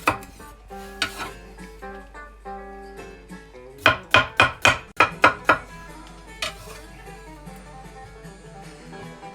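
A knife finely slices radish on a cutting board in a home kitchen, a quick run of crisp, evenly spaced cuts in the middle amid a few clinks of dishes, with no talking.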